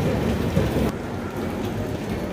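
Heavy rain pours down near a railway platform at night, a dense, loud hiss that drops somewhat in level partway through but keeps going steadily.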